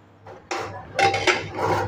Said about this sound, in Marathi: आता कुकर खोलून घेतलाय